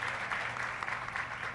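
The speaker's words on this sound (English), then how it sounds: "Can you give them a round of applause?" Audience applause at a regional business fair, a dense wash of clapping filling the room at moderate loudness, steady throughout with no voices over it.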